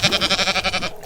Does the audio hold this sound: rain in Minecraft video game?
no